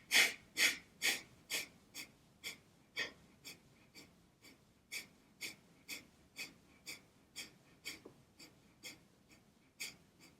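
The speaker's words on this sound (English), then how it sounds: "And again, exhale." Rhythmic forceful exhalations during pranayama breathwork, about twenty short sharp breaths in a steady pulse, loud at first and then softer, close and alone.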